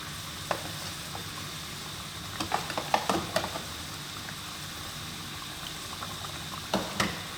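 Chunky fish pieces drop into a pot of sizzling coconut oil for a Sri Lankan fish curry, bringing a cluster of bubbling pops over a constant frying hiss that continues alone.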